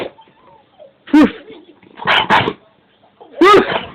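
A dog sneezes in three short, sharp bursts spaced about a second apart, close and fairly loud, with near silence between them.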